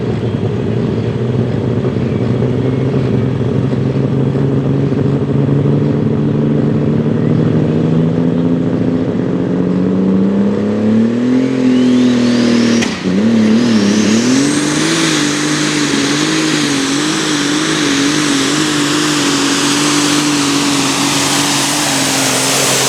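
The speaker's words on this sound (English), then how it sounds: "It'll take this one a little bit longer to get full RPMs because he's spinning more than one turbo." A multi-turbo pulling tractor at a Boonsboro tractor pull revs up, its loud, steady engine drone climbing in pitch as the turbos spool to full RPM, then holding a high, wavering roar.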